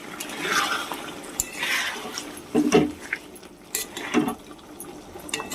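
Fried eggs being stirred into egg chilli gravy in a pan, wet sloshing and squelching with occasional spoon clinks against the pan, close and intermittent.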